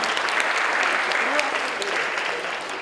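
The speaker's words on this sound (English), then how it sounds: "Can we give her a round of applause?" An audience at a school visit applauds warmly, a dense, even wash of clapping that holds steady throughout, with faint voices mixed in.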